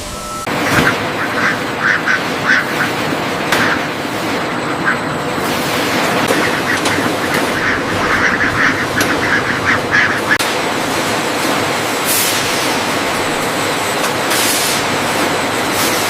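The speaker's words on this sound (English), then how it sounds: "30 falcated ducks, ready for transport" Many falcated ducks quack in a dense, overlapping chorus at a duck meat production facility, with a steady mechanical rumble of a vehicle or machinery underneath throughout.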